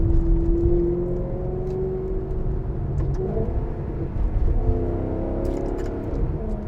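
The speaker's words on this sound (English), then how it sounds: "when we do a downshift, it automatically blips the throttle nicely to match the revs." A Maserati engine with an automated gearbox drones steadily, with pitch shifts partway through as revs drop and briefly rise in a downshift with an automatic throttle blip.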